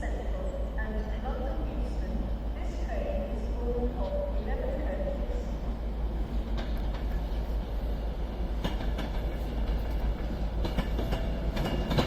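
An Avanti West Coast Pendolino rolls into Crewe, a continuous low rail rumble with clicking wheel beats and faint squeals, while a voice speaks over it.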